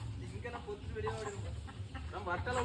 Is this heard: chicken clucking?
yes